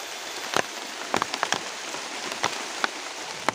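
Light rain patters on a surface nearby in a forest, with scattered sharper drips popping over a soft continuous hiss.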